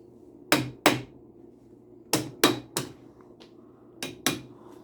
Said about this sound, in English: Give me the hammer back.